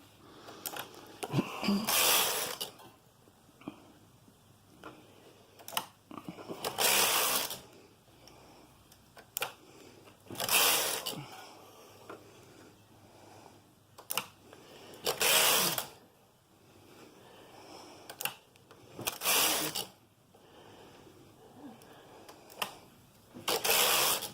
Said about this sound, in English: I'm going to set it to hold and practice short rowing.